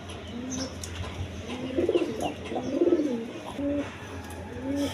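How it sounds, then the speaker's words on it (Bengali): A pair of red Gola pigeons coo in a loft, soft low throaty calls repeating a few times over steady background hum, with faint chirps elsewhere and no talk. "এইখানে এক পেয়ার গররা কবুতর আছে"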